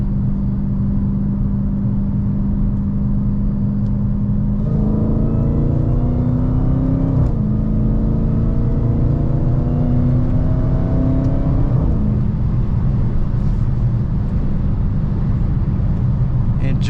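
A 2022 Dodge Challenger Hellcat rated at 717 horsepower pulls hard through the gears, a loud continuous engine roar rising in pitch, dipping at each shift and climbing again, heard from inside the car.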